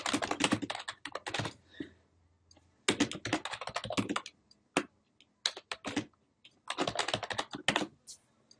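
Keys clatter on a computer keyboard while typing into a Microsoft Word 2013 document, in three close bursts of rapid taps separated by short pauses and a few single keystrokes.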